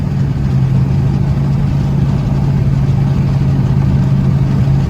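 A Dodge Charger SRT8 on a back road gives a loud, close engine drone that holds a steady low hum, with no clear rise in revs and no talk.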